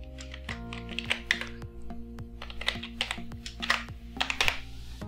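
A password is typed on a computer keyboard at a Windows domain login, giving a quick run of crisp, close key taps in an uneven rhythm with brief pauses, alone and without speech.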